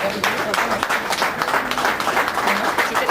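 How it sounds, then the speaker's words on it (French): Applause breaks out for the civil registrar who has just sealed a civil wedding, a dense, steady wash of many hands clapping at close range that carries evenly through the whole moment. "On applaudit pour l'officier de l'état civil qui vient de sceller."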